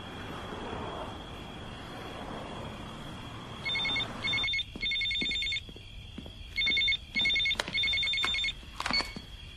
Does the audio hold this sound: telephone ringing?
yes